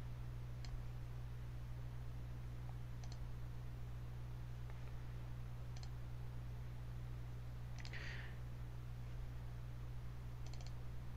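Computer mouse clicks in a quiet room: a handful of sharp, faint single clicks spaced several seconds apart over a steady low electrical hum, with no talking.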